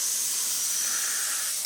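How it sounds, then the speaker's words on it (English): An airbrush spraying paint onto an edge of a piece on a turntable, a steady close hiss of air and atomized paint lasting throughout before cutting off abruptly. "I can just spray that edge there."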